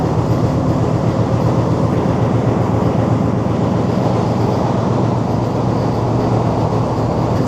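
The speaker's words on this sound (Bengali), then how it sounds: "যখনই ট্রেনটার প্ল্যাটফর্মে দরজা খুলছে বাইরের জলের ঝাপটা এতটা, পুরো ট্রেন ভিজে দিচ্ছে" A passenger train stands at a platform during heavy rain, its interior filled with a loud, steady, close rumble and rushing noise that stays constant throughout, with no talking.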